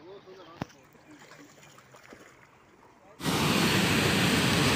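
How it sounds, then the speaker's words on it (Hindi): Loud, steady rush of seepage floodwater pouring through a small culvert during a flood in Khushab, starting abruptly partway through after quieter ambient water noise and a single sharp knock. "इतना ज़्यादा शोर है ना, आप समझ लें जैसे कोई दरिया ही इसमें गिर रहा हो।"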